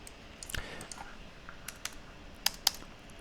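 Someone types into a notepad on a computer keyboard: scattered light key clicks with two sharper taps near the end, close and quiet, no voices.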